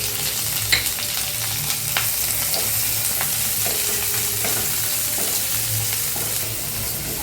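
Green chilies, curry leaves and onion frying in a pan for mutton spleen fry, with a constant close sizzle broken by occasional stirring scrapes.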